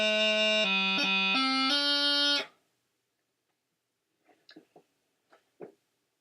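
Bagpipe chanter plays a heavy throw on D slowly, several distinct reedy notes stepping from low A through low G and up to a held D, loud and close, followed by silence with a few faint clicks.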